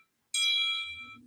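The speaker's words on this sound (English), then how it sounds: "That's my phone. I have a bell sound." A mobile phone rings with a bell-style ringtone, a bright, clear metallic chime that starts abruptly and fades, with faint low talk starting near the end.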